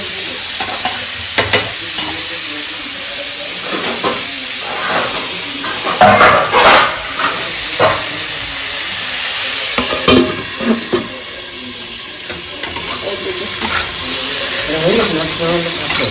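Taro and prawns fry in a pan with loud sizzling, punctuated by repeated scraping stirs and clatter of the utensil, while someone talks intermittently.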